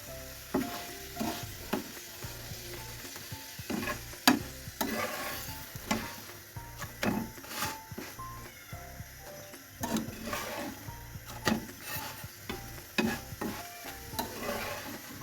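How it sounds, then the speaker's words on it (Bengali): Egg paratha fries in a pan, giving a soft sizzle under irregular scraping and tapping from a spatula, with a few sharper clatters along the way. "এই তো ভেজে নিলাম ডিম পরোটা।"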